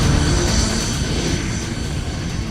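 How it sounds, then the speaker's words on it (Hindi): Australia's first unmanned aircraft runs on a runway during a test, giving a loud, steady engine roar that holds at an even level throughout with no speech over it. "ऑस्ट्रेलिया ने बिना पायलट वाले अपने पहले विमान का रनवे पर सफल परीक्षण किया है"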